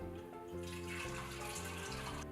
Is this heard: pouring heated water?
yes